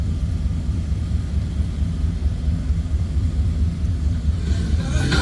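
The 455 V8 engine of a 1972 Pontiac Grand Ville convertible with an Edelbrock 4-barrel carburetor idles with a deep, steady low rumble, loud and close.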